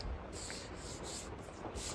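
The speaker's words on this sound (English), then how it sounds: "let me do some more sanding on this. I'm going to do hand sanding" Steady scratchy rubbing of hand sanding on an 1800s oak table, continuous back-and-forth strokes close by with faint rhythmic pulses, no voices.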